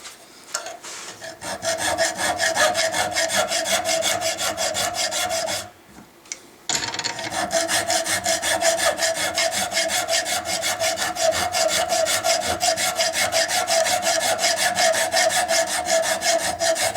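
A metal file works a ramrod thimble clamped in a vise, producing a steady, rhythmic rasp of quick back-and-forth strokes close by, pausing briefly before resuming the same even filing.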